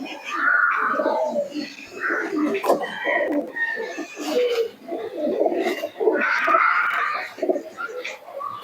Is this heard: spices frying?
no